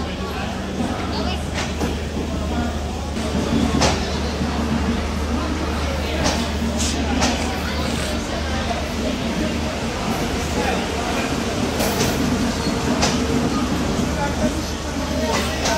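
The 13006 Howrah Amritsar Mail rolls in at platform 6 of a busy station, a steady loud rumble of wheels and carriages with scattered clanks, while people talk in the background throughout.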